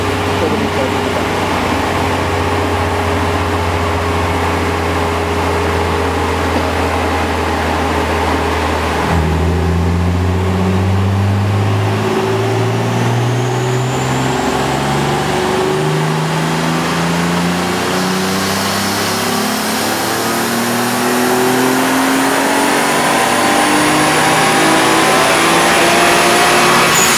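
A car engine under a piggyback or standalone engine management system climbs steadily in sixth gear on a dyno, a loud continuous rising drone with the pitch sweeping upward from low revs toward 8,000 rpm, with talking underneath.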